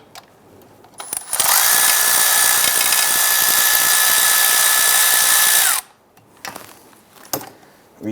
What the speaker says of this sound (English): going to use our swivel socket here to go ahead and pop these out